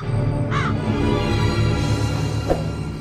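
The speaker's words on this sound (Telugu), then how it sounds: "సరిగ్గా ఆ సమయంలో 3 కాకులు వచ్చి శవాల మీద వాలుతాయి" Crows cawing in a narrated horror story scene, one clear harsh caw early and a fainter call later, over a dense steady background drone.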